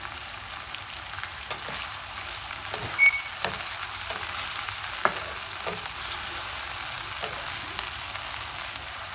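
Green chillies and liver (kaleji) sizzle steadily in a hot pan, a dense continuous crackle close by, with a few soft stirring knocks along the way.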